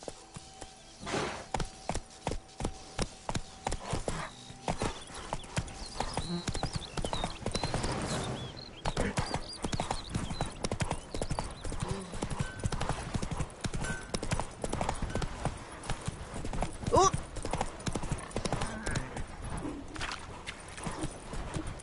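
Hooves of Roach, a horse in The Witcher game, pound in a steady rapid clip-clop gallop, close and loud, with occasional whinnies and other game sounds layered over the running rhythm.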